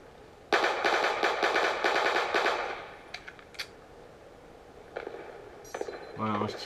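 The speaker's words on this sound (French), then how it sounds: "je tire par ici, c'est pour dire à Xenox que je suis par là" Rapid automatic gunfire from a first-person shooter game bursts loudly for about two seconds, then gives way to scattered single shots and clicks with faint game noise.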